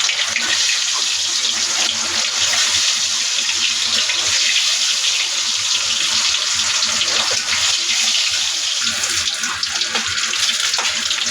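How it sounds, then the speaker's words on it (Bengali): Eggs frying in hot oil give off a loud, dense, continuous hiss that holds steady for the whole stretch. "আমার তেলটা গরম হয়ে গেছে, ডিমগুলো আমি তেলের ভিতরে ছেড়ে দিচ্ছি।"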